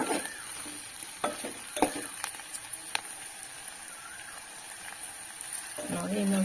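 Okra frying gently in oil over a low flame in a pan for an Andhra-style curry, a soft steady sizzle broken by scattered clicks and scrapes of stirring, fairly quiet and close.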